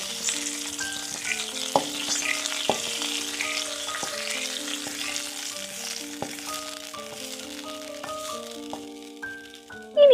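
Hot tempering sizzles and crackles steadily as it is poured into a Kerala-style pineapple pulisseri, with background music playing throughout.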